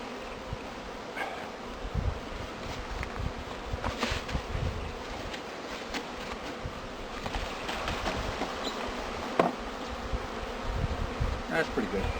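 A dense swarm of honeybees buzzes loudly and continuously up close as the bees are dumped from a nuc into a hive, with rustling and knocks from the handling.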